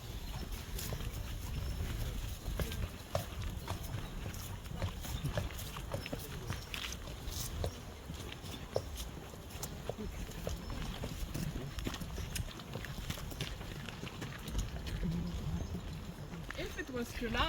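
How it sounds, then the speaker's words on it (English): Two working horses clip-clopping their hooves on a street in Tallinn, a steady uneven clatter of hoofbeats at moderate distance under ongoing conversation. "And the horse, actually there's 2 horses."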